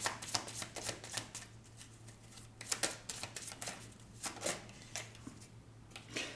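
Tarot cards being shuffled by hand in a steady run of soft riffling and flicking bursts, close and quiet, with a low constant hum underneath and no talking.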